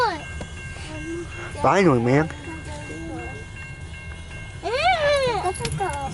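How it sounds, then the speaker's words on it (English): A long CN intermodal mixed freight train rolls past with a continuous rumble and hiss, while loud rising-and-falling squeals ring out twice; people talk briefly nearby. "The train is moving now."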